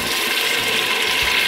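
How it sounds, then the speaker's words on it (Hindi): A glass of water poured into browned mutton for sarson ka saag gosht, a loud steady rushing splash lasting the whole short moment, with no talk. "अब मैं इसमें 1 गिलास पानी डालूंगी"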